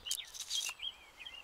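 Birds chirp in a small park, with a few high, bright tweets and short warbling calls, faint and brief against quiet outdoor background.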